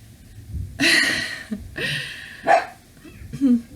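Dogs bark outside in a few sharp, separated bursts at moderate distance, mixed with yips and whimpers amid household background noise.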